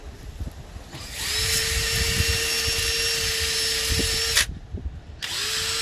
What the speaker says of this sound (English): So I've got a sanding, I don't know, Scotch Brite wheel and a drill